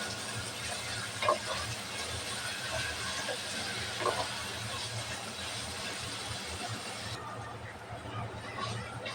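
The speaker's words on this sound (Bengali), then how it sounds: "পেঁয়াজটা ভালোভাবে ভেজে নেব" Chopped onion frying in hot oil for a Bangladeshi beef curry, a steady, dense sizzling hiss that carries on unbroken throughout, with a few faint clinks.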